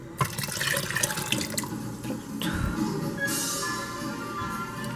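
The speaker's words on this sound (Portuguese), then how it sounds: "Vou colocar a água." Water runs and splashes steadily into a pressure cooker for beans, with a brief clank of metal near the middle and a continuous pouring hiss throughout.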